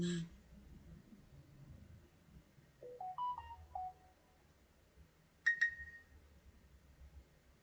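A phone gives off a short run of rising electronic beep tones, followed a couple of seconds later by a brief, sharper ringtone chirp, all faint over quiet background chatter at a cricket match broadcast.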